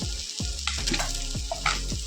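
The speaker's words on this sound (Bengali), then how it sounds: "এরকমভাবেই লাল লাল করে মাছগুলোকে কিন্তু ভাজতে হবে" Bata fish pieces frying until reddish in well-heated oil in a kadai, a steady loud close sizzle broken by several spatula scrapes and turns, with no voices.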